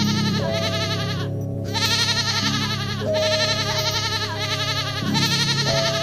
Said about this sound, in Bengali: এত রাতে ছাগলের চিৎকার কেন?